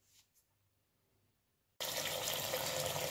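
Hot water gushes steadily over tiger nuts being soaked for bait, a loud, continuous pouring that starts abruptly after a near-silent pause and runs unbroken to the end.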